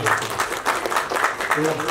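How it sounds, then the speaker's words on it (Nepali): A crowd claps for Sona in a dense, steady wave of hand-clapping that holds strong from start to finish, close and loud, with a voice faintly audible underneath. "एकचोटि जोरदार ताली सोना"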